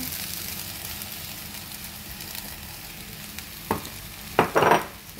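Cooked rice being stir-fried for fried rice sizzles steadily in a hot pan, with a few sharper scraping and tossing bursts toward the end.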